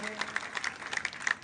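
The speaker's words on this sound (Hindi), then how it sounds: "जोरदार तालियों की गड़गड़ाहट के साथ में" Applause from a political rally audience patters softly under a speaker's amplified voice, with a steady spread of claps throughout.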